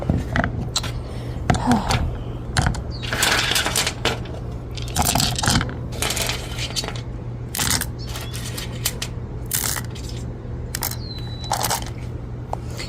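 Rocks being put back into a rock tumbler barrel after cleaning, heard as a run of clattering, scraping knocks and clinks close by, with a steady low hum underneath and no talking.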